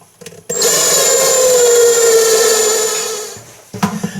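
A power drill driving screws into a Maytag Bravos washing machine whines for about three seconds, its pitch slowly dropping as it bites, with brief clicks and knocks before and after.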